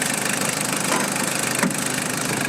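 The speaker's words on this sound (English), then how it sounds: "Yeah, it is a diesel, so the engine is a little bit louder, but what a nice engine indeed, the 1KZ." A 1995 Toyota Land Cruiser Prado SX with the 1KZ diesel engine idles with the hood closed, giving a steady, close, clattering rattle at an even level throughout.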